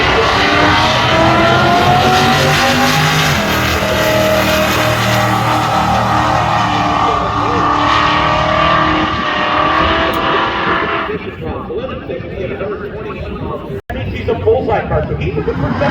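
A supercharged LS-powered Mustang roars at a drag-racing event, a long, loud, close engine howl building for about eleven seconds before cutting off, followed by crowd and ambient noise with a commentator talking throughout.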